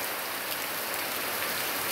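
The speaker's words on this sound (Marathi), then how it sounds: "रिपरिप पावसाची सुरूच आहे" Steady drizzling rain falling in Sindhudurg, an even, continuous hiss of fine drops on surfaces with no pauses and no voices.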